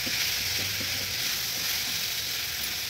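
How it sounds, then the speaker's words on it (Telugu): Tomatoes frying in oil in a pan for bitter gourd pulusu give a steady, close, dense sizzle with a few faint stirring scrapes and no talk. "ఇప్పుడు టమాటాలు ఒక పెద్ద టమాటాలు ఒక 2, ఇది కూడా ఫ్రై చేద్దాం మంచిగా."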